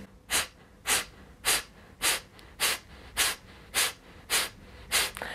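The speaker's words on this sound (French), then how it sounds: "comme si vous essayiez de chasser l'air par le nez le plus vite possible, comme des petits points" Rapid forceful exhalations through the nose during a breathing exercise, ten sharp regular puffs about half a second apart, close and clear with no talking.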